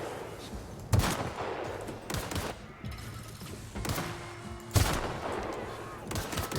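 Gunshots from a sci-fi shooter game, Outer Worlds, crack out as two sharp, loud blasts about four seconds apart over a steady bed of game ambience and scattered mechanical clatter.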